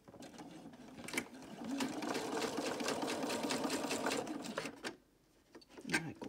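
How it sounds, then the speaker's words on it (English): A sewing machine runs steadily, stitching back and forth across overlapping fabric pieces under the presser foot, its close mechanical whir continuous for several seconds before a brief pause and restart. "go under the presser foot and just sew across a few times"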